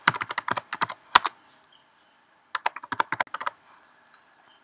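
Credentials are typed on a computer keyboard in two quick bursts of crisp, close key clicks separated by a short pause, with one last lone tap at the end.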